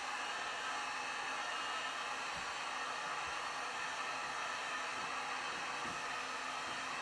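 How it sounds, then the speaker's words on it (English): A heat tool blows steadily onto wax on a painting, a continuous airy roar with a faint hum running through it, close and unbroken from start to finish. "I'm going to heat up the wax first."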